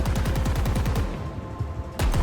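Rapid automatic gunfire from a weapon in Halo Infinite, a loud, evenly spaced burst for about a second, then a pause and a fresh blast at the end.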